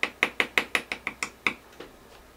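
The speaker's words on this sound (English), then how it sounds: "we're going to spatter with thinned lamp black" Brush flicking thinned lamp black paint toward the outside edges of a country Christmas tole painting, giving about nine sharp, evenly spaced ticks that fade into a few softer taps, close and alone.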